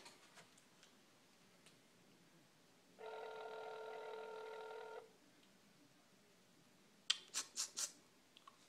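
A single faint telephone ring tone lasts about two seconds amid quiet background, followed later by a brief cluster of clicks.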